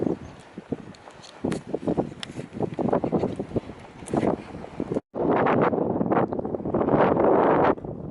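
Strong wind blowing across an open mountainside above a lake, loud buffeting gusts against the microphone that cut out abruptly and return as a heavier roar.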